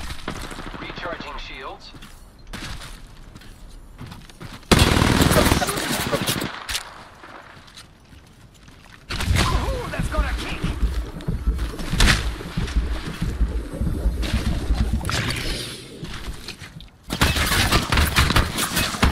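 Gunfire in the video game Apex Legends: bursts of rapid automatic shots alternate with quieter gaps, loud and close, while a player and an in-game voice speak over parts of it.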